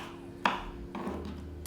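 A knife roughly chops mango into cubes on a board, giving a few soft irregular knocks, the first one sharper and louder than the rest.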